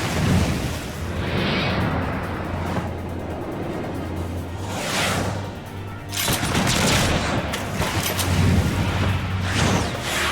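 Shotgun or dual musket fire rattles through a Final Fantasy XIV battle in repeated loud, dense bursts over a continuous roar, the bursts coming in surges across ten seconds, with no speech.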